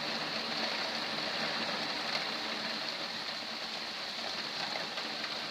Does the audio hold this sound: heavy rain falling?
yes